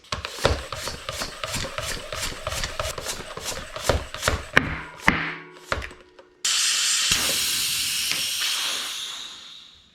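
Air is pumped into a WTB Trail Boss bicycle tire with the valve core removed: a burst of strong steady hissing that starts abruptly and slowly tapers off, following a run of rhythmic rubbing, scraping strokes.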